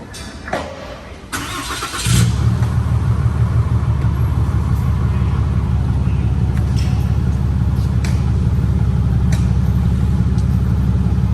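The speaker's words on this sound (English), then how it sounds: "I'm going to give you a cold start here." Cold start of a 5th gen Ram truck engine fitted with a Banks exhaust: a few clunks, a cranking whir, then the engine catches and settles into a loud, steady deep idle rumble.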